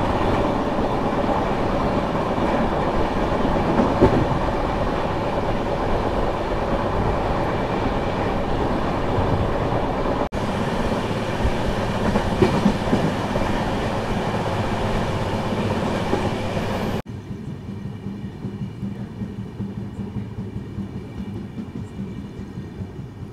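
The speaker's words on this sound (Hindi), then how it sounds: "ये बस मात्र 1 मिनट स्टॉप के बाद हम लोग निकल चुके हैं कारमेलाराम रेलवे स्टेशन से" The Tuticorin Express rolls along the rails out of Carmelaram station on its Bengaluru to Madurai run, a steady onboard rumble with faint clickety-clack that drops in loudness partway through.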